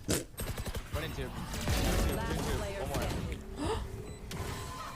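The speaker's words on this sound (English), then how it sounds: "That was a lot of bullets." A burst of rapid gunfire in a video game, loud and close, with game sounds and a voice talking over it.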